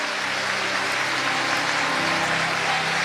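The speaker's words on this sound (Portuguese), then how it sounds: "Gente, só 3 pessoas aplaudiram," A few people in a church give a dense, steady applause that fills the whole moment with no break.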